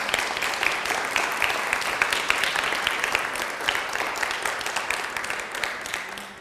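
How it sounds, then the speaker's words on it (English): Audience applause after a section is read aloud at a book event for a mother's memoir, steady moderate clapping from a modest crowd that thins and fades out at the end. "you have to applaud because that's for Mom"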